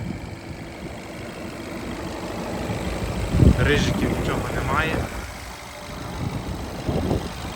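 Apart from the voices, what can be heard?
diesel car engine idling smoothly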